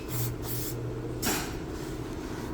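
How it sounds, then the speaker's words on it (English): Brake cleaner sprayed onto the rear brakes of a 2012-2017 Toyota Camry, close short bursts of aerosol hiss, two brief sprays then a longer one over quiet background. "Spray some more brake cleaner."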